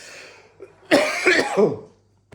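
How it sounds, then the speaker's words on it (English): A single rough cough, preceded by a faint throat sound, close and fairly quiet against a low steady hum. "And a cough."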